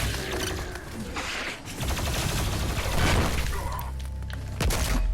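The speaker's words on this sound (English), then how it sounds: "So we'll take out the plasma rifle." Plasma rifle firing in the video game DOOM Eternal, rapid crackling energy bursts with shattering impacts and explosions in a loud, chaotic fight.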